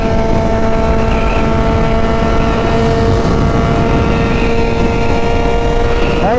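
A Yamaha XJ6 motorcycle with a straight 2.5-inch exhaust pipe and FuelTech engine management drones loudly and steadily throughout, its tone holding at a constant pitch and rising briefly near the end.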